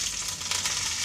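Mustard seeds and curry leaves fry in hot coconut oil in a pan for a prawn fry, giving a close, steady crackling sizzle with a brief popping swell.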